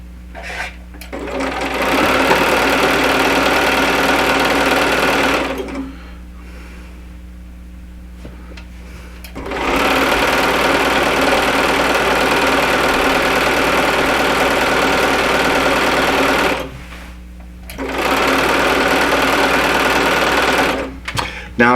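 Sewing machine stitching quilt fabric pieces, loud steady whirring in two long runs separated by a short pause and a brief stop near the end, with quiet background between bursts.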